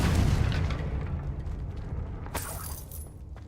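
A Confringo spell explosion in the Hogwarts Legacy video game booms loudly from the start and rolls into a long rumbling decay, with a bright crackling burst near the end.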